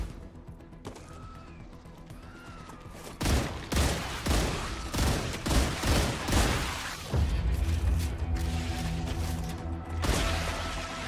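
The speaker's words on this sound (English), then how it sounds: "There's an artillery guy shooting" Artillery in the sci-fi game StarRupture fires a dense run of loud, thudding shots in quick succession, set against a low steady hum, after a quieter opening with soft electronic tones.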